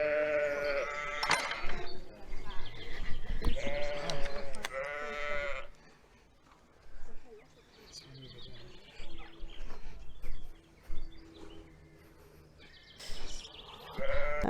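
Sheep bleat in a field in Wiltshire, several loud, close calls in bursts at the start and again at the end, with quieter bleats and faint bird calls in between.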